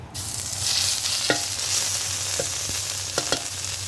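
Thai curry paste dropped into hot oil for a stir-fried frog dish, a loud continuous sizzle and frying hiss with occasional scrapes and knocks of a stirring utensil, no talk.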